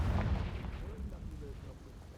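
A Confringo fire blast spell from the Hogwarts Legacy video game bursts out with a heavy low boom at the start, then rumbles and fades over the next two seconds, with a faint voice murmuring underneath.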